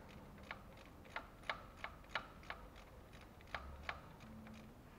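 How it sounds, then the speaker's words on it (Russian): A ratchet loosens the M6 water pump bolts on a 2007 Chevrolet TrailBlazer 4.2, a run of quiet sharp clicks in an uneven rhythm, close up in a quiet workshop. "Откручиваем помпу."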